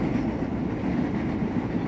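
A KRL Commuter Line electric train runs between Jakarta and Bogor with a steady, dense rumble of wheels on track. The rumble is constant and fairly close, with no voices.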